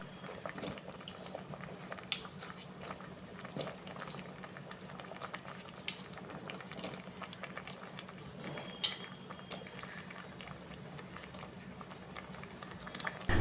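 Black-eyed beans cooking with chopped bottle gourd and brinjal bubble in a pot, a soft, steady boil with faint patter and occasional small clinks throughout.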